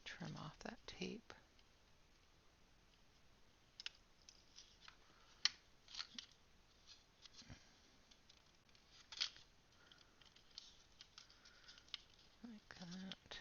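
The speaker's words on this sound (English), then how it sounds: "I'm going to trim off that tape." Scissors snip through tape during a paper craft, producing a scattering of quick, faint crisp cuts and clicks spread over a quiet stretch, with soft handling rustles and occasional talk.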